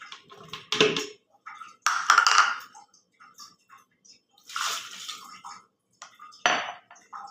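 Ingredients for a makhana blend, including cardamom seeds and coarsely crushed almonds, go into a blender jar in several separate bursts of clinks and rattles against the jar, close and fairly loud with no talking.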